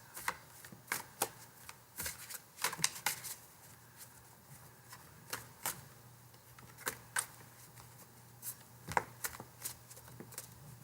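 Tarot cards being shuffled in quick, irregular bursts of soft riffling clicks and flicks, close and fairly quiet, with no talking.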